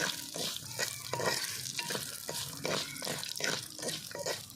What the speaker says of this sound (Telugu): ఇప్పుడు అదే నూనెలో మనం కొబ్బరి వేసుకుందాము ఇవి కూడా ఫ్రై చేసుకోవాలా